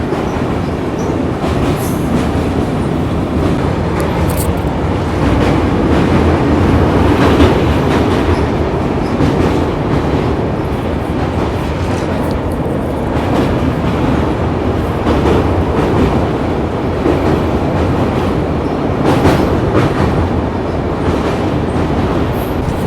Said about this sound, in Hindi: आप ब्रिज को बढ़िया पार कर रहे हैं अपनी ट्रेन